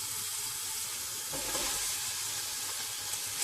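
Onions and green chilies fry in a pan for restaurant-style vegetable biryani, giving a steady, close sizzle with a brief louder burst of stirring midway and no talk.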